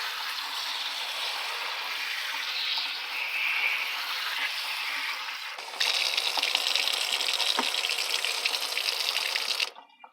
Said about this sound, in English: we're going to put our mushrooms in a colander, and we're going to rinse them off really well